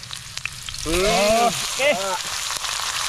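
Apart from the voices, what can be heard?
pork ribs sautéing in a pan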